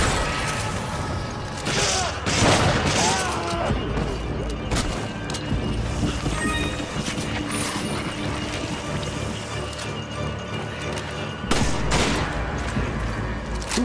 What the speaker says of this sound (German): Shotgun-Schuss ab!